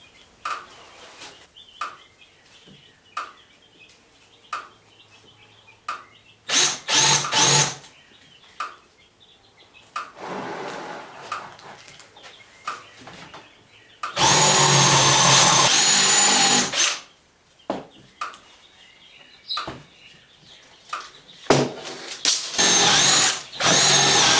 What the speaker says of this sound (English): a 1/2-inch drill bit works perfect with these 1/2-inch bolts.